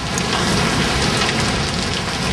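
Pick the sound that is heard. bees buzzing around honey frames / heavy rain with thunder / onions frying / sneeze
heavy rain with thunder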